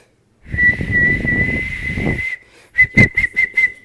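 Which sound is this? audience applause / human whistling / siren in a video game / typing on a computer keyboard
human whistling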